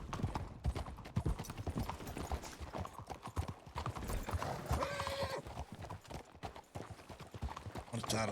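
Horse hooves clip-clop steadily in a video game, with a whinny partway through and faint talk underneath.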